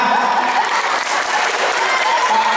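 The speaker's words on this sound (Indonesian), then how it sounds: "Tepuk tangan." An audience at an Islamic New Year gathering bursts into loud, steady applause, many hands clapping together at close range with a faint crowd murmur underneath.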